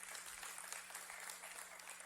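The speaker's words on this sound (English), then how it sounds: "Yeah, clap for my mom." A church congregation applauds in a steady, faint wash of clapping heard from a distance, with no talking over it.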